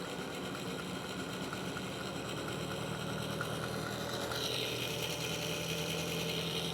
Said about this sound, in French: Le moteur prend une certaine vitesse.